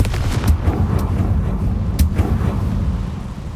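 In Hogwarts Legacy, the Confringo fire spell goes off in two sharp, loud blasts about a second and a half apart, over a dense, rumbling game background.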